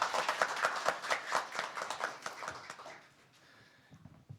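Seminar audience gives a round of clapping to welcome a professor, a steady moderate patter of many hands that fades out after about three seconds into a quiet room.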